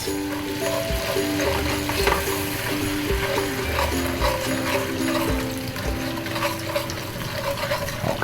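Butter and brown sugar melting in a pan for a peach wing glaze, giving a steady low sizzle and bubbling that runs continuously, with a faint stirring scrape and no voices.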